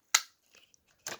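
Small plastic tabs snapping loose on a Transformers Pit of Judgement toy set: a sharp click, a few faint rustles, then a second louder click, all close and quiet.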